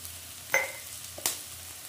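Onions frying in a pan for a Manchurian snack: a faint, steady sizzle under two brief, sharp clatters of stirring, no voices.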